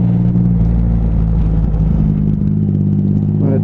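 Motorcycle engine rumbling steadily as the throttle is opened during a ride, a loud continuous low drone with a slight rise in revs near the end.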